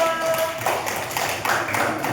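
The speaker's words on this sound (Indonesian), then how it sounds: "Tepuk tangan buat Mas Zio" Children in a third-grade classroom clap together for a classmate, a short burst of close, uneven handclaps that swells and overlaps for about two seconds.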